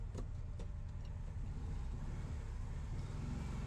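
A 1968 Volkswagen Beetle's air-cooled engine idles and labors steadily at close range while the car is slowly backed in, a continuous low rumble with no talk over it.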